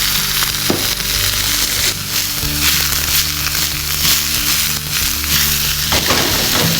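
Mustard oil sizzles steadily in a pan on the stove, a continuous close, fairly loud hiss and crackle with no pauses.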